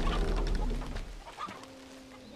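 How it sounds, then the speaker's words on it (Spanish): Chickens cluck in Uncharted 2, several close, fairly loud bursts of clucking and a brief squawk that fade to quieter clucks, with no one speaking. "Gallinas."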